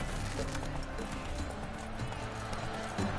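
Hoofbeats of the horse Roach galloping in The Witcher 3 video game, a steady rapid clip-clop that runs the whole time over a dense game soundtrack, with a brief whinny-like accent near the end.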